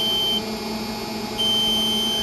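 An egg incubator gives a steady electronic beep as it turns its trays; the tone breaks off briefly and then sounds again, close and clear.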